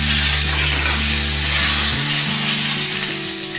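Curry leaves crackle and sizzle as they hit hot oil on a medium flame for a dahi tadka, a dense continuous frying hiss with a steady low hum underneath and no talking.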